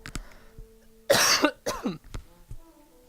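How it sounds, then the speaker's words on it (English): A couple of harsh, close coughs break a quiet room, followed by a softer throat-clearing sound and a few faint clicks. "Excuse me, I'm going to cough."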